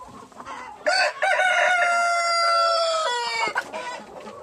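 Free-range hens feeding on greens in a rural yard give a loud, close drawn-out squawking call with sharp clucks before and after it, and no voices can be heard.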